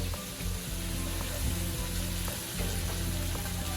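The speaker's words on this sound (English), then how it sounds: "we're just gonna stir fry all these veggies real quick" Vegetables being stir-fried in a hot pan with garlic, giving a steady, dense sizzle with occasional scraping stirs, close and continuous throughout.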